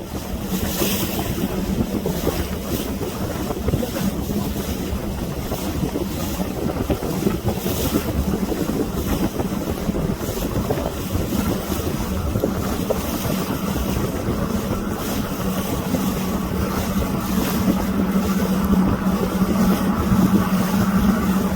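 A sailboat motor-sails on its auxiliary engine, with a steady low engine drone beneath constant wind buffeting and rushing water for over twenty seconds, close and loud, with no talk.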